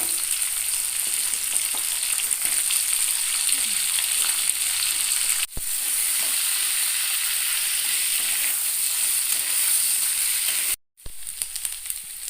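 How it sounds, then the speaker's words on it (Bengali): Chopped vegetables frying in a pan with panch phoron spices: a loud, steady sizzling hiss with faint stirring clatter, broken by a brief dip partway through and a short gap near the end, with no voices. "কেটে রাখা সবজিগুলোকে আগে ভালো করে ভেজে নিতে হবে"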